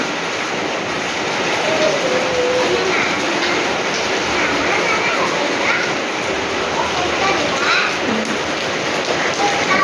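Steady rain falls throughout during a communal cooking gathering for a village family feast, a continuous broadband hiss with faint voices now and then beneath it.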